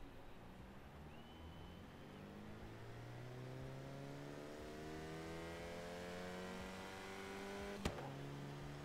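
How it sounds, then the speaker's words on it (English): A Bugatti Veyron fitted with a Reliant Supervan engine accelerates in Forza Horizon 3, its engine note climbing steadily through rising gears, with a sharp click near the end and no talking. "let's put a Reliant Supervan engine in this bad boy"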